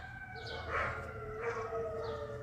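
Sirens wail in the distance in a rising and falling tone, with dogs howling along faintly over a steady low background rumble.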